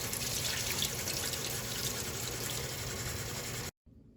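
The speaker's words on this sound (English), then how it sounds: "I'm rinsing off my pasta with cold water to stop the cooking process" Cold tap water pours over cooked pasta in a strainer, a steady, full splashing rush that runs continuously for several seconds before cutting off abruptly, no talking over it.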